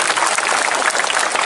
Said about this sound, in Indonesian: Tepuk tangan buat nang Bali.